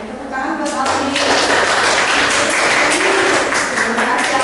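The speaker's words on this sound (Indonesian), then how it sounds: "tepuk tangan buat Alfi" A classroom of students claps for a classmate's presentation, a dense burst of applause that builds after the first second and keeps going. Children's voices chatter under it.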